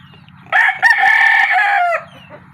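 A white kelso cross rooster crows loudly and close by in one long, strained call, with clucking mixed in. Softer low clucking comes before and after the crow.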